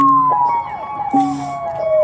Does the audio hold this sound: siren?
yes